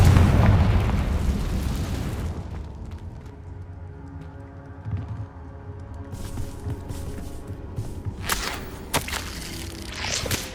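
Magic spell blasts from the Bombarda and Confringo charms in the video game Hogwarts Legacy, a loud booming explosion opening the scene and tailing into rumbling debris, followed by scattered softer pops and crackles.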